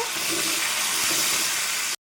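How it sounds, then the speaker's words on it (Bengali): Cauliflower fries in hot oil in a pan, a steady close hiss of sizzling bubbles that runs without a break, then cuts off abruptly near the end. "ফুলকপিটা লাল লাল করে ভেজে নেব"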